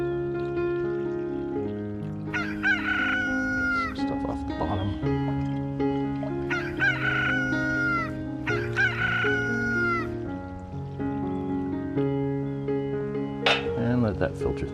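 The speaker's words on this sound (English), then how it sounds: "they had some crowing roosters at this point, so I'll try to add those in as a sound effect" Roosters crow repeatedly as an added sound effect, several loud cock-a-doodle-doo calls spaced through the stretch over a steady musical background.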